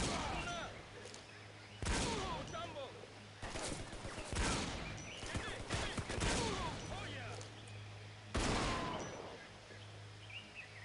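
Sniper rifle shots ring out in the Shadow Ops: Red Mercury game: several loud, sharp cracks spaced a few seconds apart over a steady background hum, with faint bird calls in between.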